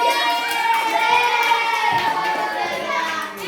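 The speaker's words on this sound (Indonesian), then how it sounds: "tepuk tangan." Children in a classroom clap and cheer together, their high shouting voices ringing over rapid hand claps, loud and close throughout.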